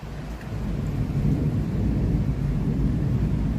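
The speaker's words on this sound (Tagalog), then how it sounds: "sobrang malakas ng ulan. Lakas pa ng kidlat at kulog." Heavy downpour pounds steadily during a thunderstorm in mountainous Hong Kong, with deep rumbling thunder rolling beneath the dense hiss of rain, close and continuous with no voices.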